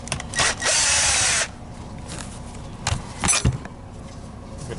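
Power drill backing a screw out of a Kirby vacuum transmission (Generation Sentria/Avalir), one sustained whirring burst followed by a couple of shorter close drill pulses and small tool handling noises.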